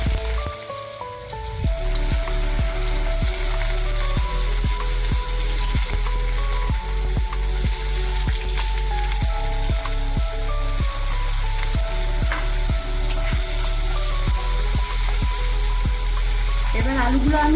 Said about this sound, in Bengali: এখন আমি ভাজছি।